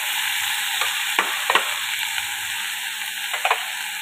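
Chopped tomatoes for tomato chutney sizzle in a hot pan with a steady hiss, while a few distinct scrapes of stirring break through now and then.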